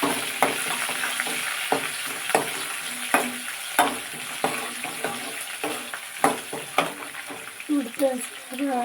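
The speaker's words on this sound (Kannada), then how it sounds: "ಕರಿಬೇವು, ಕೊತ್ತಂಬರಿ ಹಾಕ್ಕೊತಾ ಇದ್ದೀನಿ. ಮೆಣಸಿನ್ಕಾಯಿ," Curry leaves, coriander and green chillies frying in a pan for poha, a busy crackling sizzle with repeated scraping stirs and clinks, close and lively throughout.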